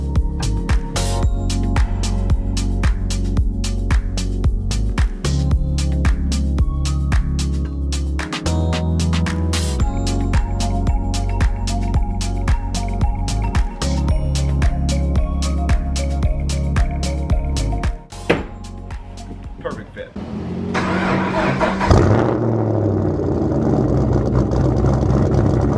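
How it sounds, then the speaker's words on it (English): A Chevrolet Camaro cold starts on its existing exhaust, settling into a loud, steady idle rumble that holds for a long stretch before a sudden shift to a rougher, broader roar near the end. "I'll give you a cold start of the existing exhaust."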